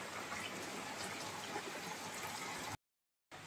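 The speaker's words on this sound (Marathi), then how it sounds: "कारण बाहेर पाऊस पडतोय." Steady rain falls outside during a rural Konkan monsoon day, a dense, even hiss of drops that runs unbroken for several seconds before a brief cut to silence, with no voices.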